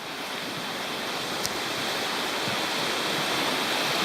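The South Mills River rushes along in a steady, loud broadband roar of flowing water that holds constant throughout, with no voices over it.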